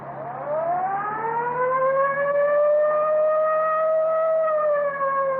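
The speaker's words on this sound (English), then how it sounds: "I'll get the siren." A police car siren winds up and holds a long, rising-then-steady wail, loud and close, with an engine hum beneath it.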